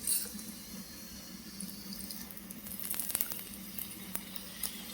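Food fries in hot oil, giving a steady close sizzle with scattered sharp crackles and pops and no talking.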